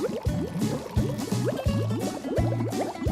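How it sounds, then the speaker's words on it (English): Blue-dyed water gurgling and glugging through a homemade air-pressure pump made of bottles, with repeated bubbling pulses about every half second, close and fairly loud, no talking. "The blue water travels from the top of our pump to the bottom bottle."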